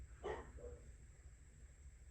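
Pet dog barking in a home during a model car build, one short sharp bark followed by a fainter yip, somewhat distant and quiet against a steady background hum.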